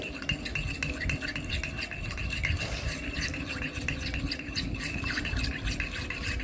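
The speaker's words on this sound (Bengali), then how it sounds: "তাকে আমি একটু ভালো করে ফেটিয়ে নিলাম একটু লবণ দিয়ে ফেটাতে হবে" Two eggs with a pinch of salt are whisked briskly, a rapid, even clatter of utensil strikes against the bowl running continuously at close range.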